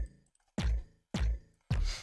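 A Serum Monster wavetable 808 with all effects turned off plays three separate booming bass hits, each with a sharp attack and a decay that fades over about half a second, with short gaps between them.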